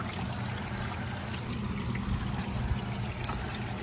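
Filtered water from a 1200-gallon DIY raised koi pond's filter pours from a bottom outlet back into the pond, a steady, close, continuous splashing trickle with no pauses.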